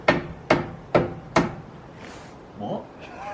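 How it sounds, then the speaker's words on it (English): Four evenly spaced heavy hammer blows knocking a brake caliper off a car during a brake upgrade, loud and close, followed by faint shuffling and a brief voice. "He's hammering off the caliper."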